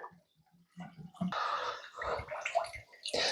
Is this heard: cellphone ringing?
no